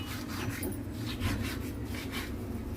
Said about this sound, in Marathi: आता मी याला स्वच्छ असं धुवून घेणार आहे खिशीने घासायचं